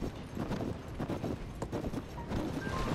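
Horse hooves clip-clop at a steady trot in The Legend of Zelda: Tears of the Kingdom, a continuous rhythmic patter of game footsteps at moderate volume with no talk over it.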